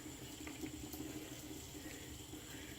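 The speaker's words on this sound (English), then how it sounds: "I'll pause for a second so you don't have to watch me rinse my face." Tap water runs steadily into a sink while a face is rinsed, a constant close hiss with no talking.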